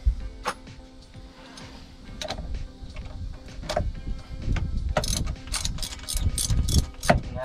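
A ratchet on a long 6-inch extension clicks in quick bursts while breaking a spark plug loose on a Yamaha jet boat engine, with sharp, close metallic ratcheting pulses that grow denser and louder toward the end.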